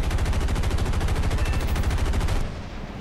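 Sustained, rapid machine gun fire from a P-40 fighter plane in the aerial combat game War Thunder, a loud, dense stream of shots lasting about two and a half seconds before cutting off abruptly.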